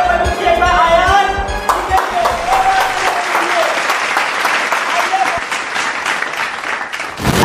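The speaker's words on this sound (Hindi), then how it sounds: "एक बार जोरदार तालियां बजाइए।" Loud audience applause at a quiz-style show, with dense clapping filling the room after a brief spoken introduction and continuing steadily for several seconds.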